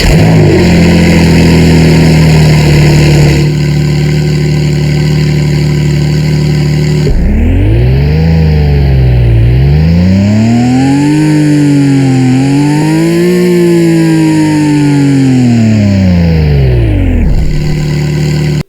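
Porsche 911 Targa engine in the Driving Empire video game starting up and revving, a loud, close mechanical drone that climbs and falls in pitch through several rev sweeps before cutting off.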